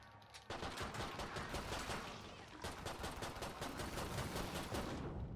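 Video game gunfire rattles in rapid automatic bursts, a dense run of loud shots that starts abruptly and keeps going with only brief gaps.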